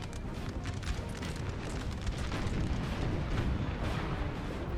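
Battle noise from Napoleon Total War at Aspern, where Austrian 10-pounder cannons fire amid a dense, continuous roar of booms and rumbling gunfire, loud and steady throughout with no distinct single shots standing out.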